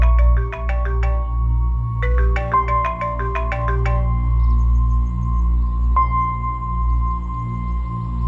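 A phone ringtone plays in repeated bursts of quick electronic melody, ringing on unanswered over a low steady hum.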